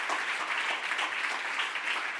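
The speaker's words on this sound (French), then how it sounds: "je vous demande de les applaudir aussi" Audience applause at a corporate awards evening, steady and even clapping from a crowd filling the whole stretch without letup.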